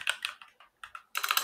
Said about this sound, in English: in the address bar, typing